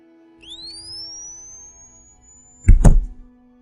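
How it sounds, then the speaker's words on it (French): A defibrillator shock sound effect: a rising electronic charging whistle climbs and holds for about two seconds, then a single heavy thud lands close and loud before fading out. "Il y a eu un sifflement et un bruit sourd"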